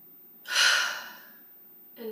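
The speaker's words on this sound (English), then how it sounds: "Breathe it in" One deep, audible breath drawn in through the mouth, a long airy inhale that swells and fades slowly, followed after a pause by the start of a voice.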